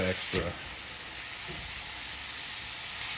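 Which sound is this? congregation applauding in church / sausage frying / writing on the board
sausage frying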